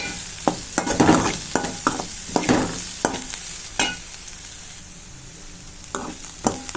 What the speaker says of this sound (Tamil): எல்லாத்தையும் சேர்த்து நல்லா நம்ம வதக்கிக்கலாம்